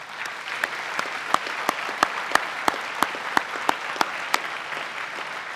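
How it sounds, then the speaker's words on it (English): Applause for the families at a 2025 graduation ceremony, a broad wash of clapping from a large audience with sharper individual claps standing out at a steady rhythm, sustained throughout. "Let's give a big round of applause for them"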